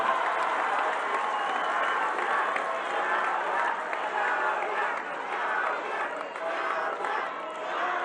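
A large outdoor rally crowd in Mapimí, Durango applauds the country's president in a thick, continuous wash of clapping mixed with cheers and crowd noise.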